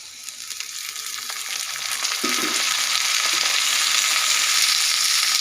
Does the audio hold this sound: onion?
yes